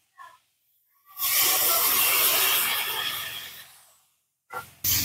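Water poured into a hot pan of frying potatoes and green cauliflower bursts into a loud, broad hiss and sizzle lasting a few seconds, then fades, with a short hiss at the end.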